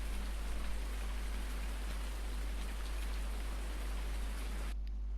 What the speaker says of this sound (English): I really hope it stops raining soon.